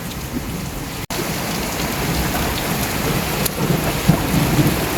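A heavy downpour hisses steadily over a garden with plants, a dense, continuous roar of rain on surfaces with thunder rumbling low underneath throughout.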